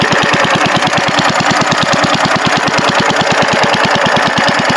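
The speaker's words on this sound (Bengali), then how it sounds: "এরকম জল ছাঁচার মেশিন যে গ্যাসে চলে সেটা আমার জানা ছিল না" A gas-cylinder-powered water pump engine in a Sundarbans village runs close and loud with a fast, even, thumping beat that holds steady the whole time.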